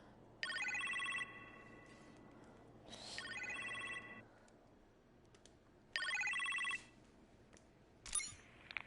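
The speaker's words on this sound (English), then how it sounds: "a phone call in the kitchen, sir." A telephone rings in a kitchen in the Iron Man VR video game, with three bursts of an electronic trill separated by pauses, clear and fairly close over a quiet room tone.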